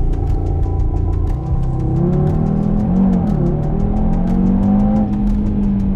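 Audi TT in sport mode, engine revving hard and accelerating with a steady loud rising drone, close and continuous, no talking.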